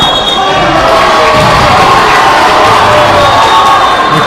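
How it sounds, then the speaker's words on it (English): Crowd at a varsity basketball game between Carroll and Flour Bluff roaring and cheering, a dense, loud, continuous wash of voices with shouts rising through it. "The crowd is up and about that one."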